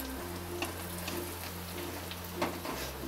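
Hing, turmeric, slit green chillies and finely chopped tomato roast in hot oil in a pan for a Maharashtrian dry sprouted moth bean and mung bhaji, giving a steady, soft sizzle with a few light stirring clicks.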